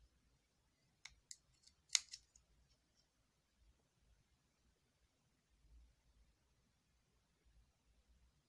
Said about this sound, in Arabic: هجيب مقص واسيب بيه الأطراف